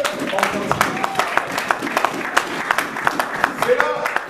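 A church congregation claps in applause, a steady, dense patter of many hands with a few voices and cheers rising over it.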